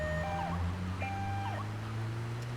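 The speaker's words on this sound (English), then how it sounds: "you can even play with the siren and see when it works to your favor" A wailing ambulance siren from the video game GTA 3 sweeps up and down steadily over a low, droning engine hum, with no talking.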